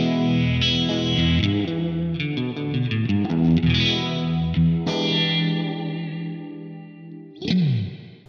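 Electric guitar played through the Univibe mode of a Kernom Elipse modulation pedal, sustained chords and notes pulsing with a warm, watery wobble, loud and alone.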